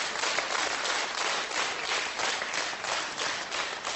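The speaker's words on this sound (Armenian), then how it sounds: "Շուշան Պետրոսյան, ձեր ծափարությունները։" Sustained audience applause for singer Shushan Petrosyan, a dense, steady wash of many hands clapping at an even loudness throughout, with no voices over it.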